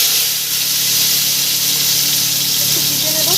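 Snake gourd pieces drop into hot oil already tempered with nigella seeds and dried red chilli, giving a loud, steady, close sizzling hiss that runs unbroken the whole time with no talking.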